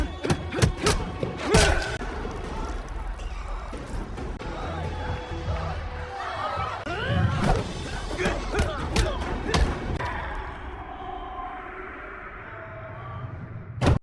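Punches and blows land in a movie MMA fight, sharp thuds and whacks scattered over a crowd murmur and dramatic background, with a narrator talking throughout.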